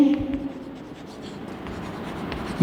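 Pen writing a line of an English letter on paper, a continuous close scratching and scribbling with small strokes, under low room noise.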